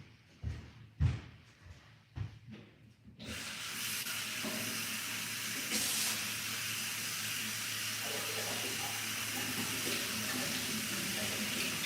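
Tap water runs steadily into a sink over grapes being washed, a continuous close hiss after a few knocks and clatters at the start, with a dog and people nearby but no talk during the rush.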